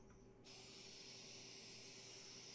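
A magic spray in the Treasure Hunter Simulator video game lets out a sudden, loud, steady hiss after a brief quiet moment and holds it without a break to the end.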